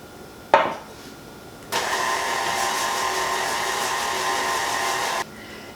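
Electric hand mixer creaming butter, cream cheese and sugar together for a pound cake, a steady close whir running about three and a half seconds after a brief knock, then cutting off.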